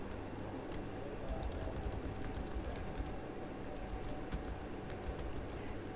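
Soft, quiet tapping on a computer keyboard, a steady patter of light key clicks with occasional sharper presses, heard alone at low level against a faint room hiss.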